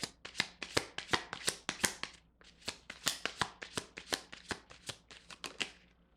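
Tarot cards shuffled by hand in a steady run of crisp riffling bursts, close and fairly loud, with a brief pause partway before the shuffling resumes; no voices.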